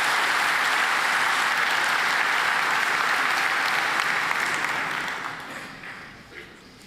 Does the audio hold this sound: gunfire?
no